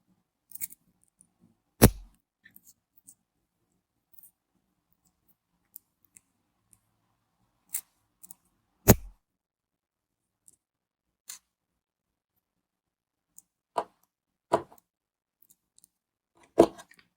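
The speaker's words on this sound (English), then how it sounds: "Next, we will cut off the excess." Scissors snip off excess material while making gummy bear earrings, giving sparse, sharp clicks and snips scattered across a quiet background, with a few louder cuts standing out up close.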